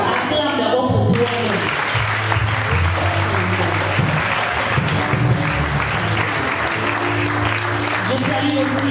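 Sustained applause from a church congregation during a French-language sermon, a dense crowd of clapping filling the whole stretch while a voice speaks over it.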